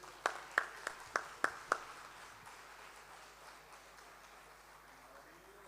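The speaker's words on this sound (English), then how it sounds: "let's give him a big hand of applause" At a Workers Day community meeting, six sharp, evenly spaced handclaps ring out close by to welcome President Fadil Adams, then give way to faint, scattered patter that fades away.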